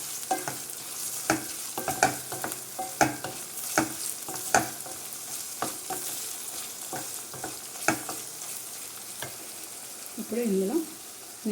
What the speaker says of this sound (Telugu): పచ్చివాసన పోయే వరకు ఫ్రై చేసుకున్నాం ఆయిల్లో మసాలాని.